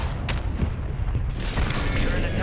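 Rumbling blasts from a mortar strike in the video game Warzone 3, heavy low booms rolling continuously with a brighter crackling burst partway through, loud and close.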